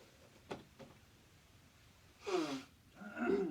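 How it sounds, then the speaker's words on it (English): Two quick sniffs, then a pause before two forceful, honking nose blows into a tissue, fairly close and fairly loud. "now I'm gonna blow my nose"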